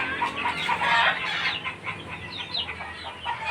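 Many chickens cluck and chatter together in a dense, busy flock, close and continuous without a break, in a full chicken-rearing pen.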